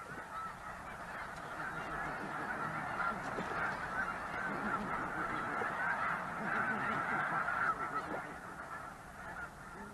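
A large flock of snow geese from Canada honks steadily and densely, many overlapping calls forming a continuous, fairly loud chorus with no voices.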